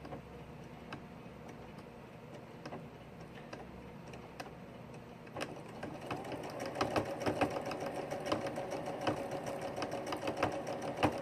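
A sewing machine stitches quilt binding in the ditch, first slow irregular clicks of the needle, then a faster steady mechanical ticking whir that grows louder and continues alone.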